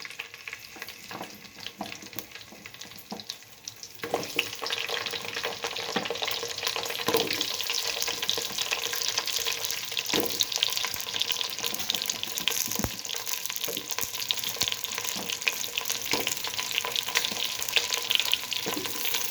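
Pumpkin pieces dropped into hot oil with three dried red chillies, a dense, continuous sizzle that swells louder after a few seconds and holds steady, with scattered clicks and no talking.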